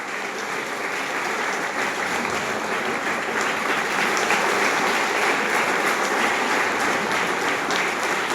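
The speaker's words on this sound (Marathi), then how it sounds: "तुमच्या स्टाफसाठी टाळ्या वाजवा" An assembled audience claps continuously, the massed applause close and full, holding at a steady intensity with a slight rise midway and no voices on top.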